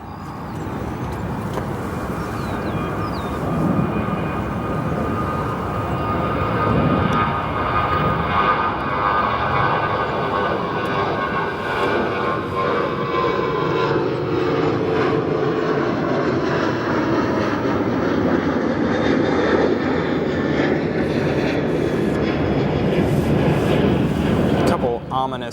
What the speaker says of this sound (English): United Airlines Flight 920, a 767-300, that'll be departing on its way to London Heathrow